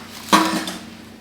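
A knife cuts through a mozzarella and boudin stuffed egg roll, giving one sharp, close clack against the plate or board, followed by a short scraping tail.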